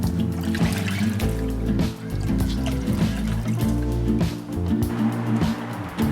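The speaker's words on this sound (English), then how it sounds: "rinse the first microfiber cloth and wring out excess water" Water splashing and trickling as a microfiber cloth is rinsed and wrung out during a low-water car wash, a loud, close, continuous dribble that dips briefly twice.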